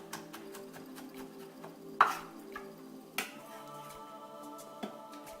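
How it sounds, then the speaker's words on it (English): A sharp knife coarsely chopping garlic cloves on a board, giving a few scattered crisp taps, the loudest one sharp and near, with quieter knocks between and a faint background hum. "The rest of our garlic cloves here, we'll give them a nice little coarse chop here."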